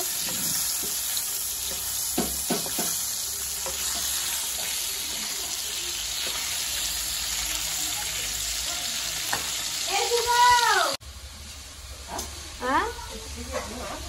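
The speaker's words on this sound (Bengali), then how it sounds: "আমার মেয়ের জন্য এই শিং মাছটাকে ভালো করে হালকা করে ভেজে নেব" Singi fish frying in a pan, a steady hiss carrying through with occasional clinks and scrapes, and tap water running nearby toward the end, with no voices.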